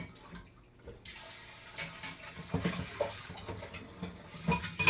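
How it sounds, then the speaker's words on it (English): Boiled water poured from a kettle into a jug, an uneven splashing trickle that starts after a short quiet moment and builds in bursts, close and fairly soft. "Water that I boiled, I can take that and pour it in this jug"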